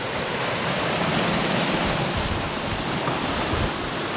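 A continuous, dense roar of a waterfall's rushing water, steady and loud, with no pauses or other sounds.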